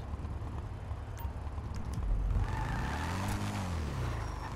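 A small motorbike engine in the video game GTA 5, a steady droning hum that swells and rises in pitch as the bike pulls away, heard alone without talk.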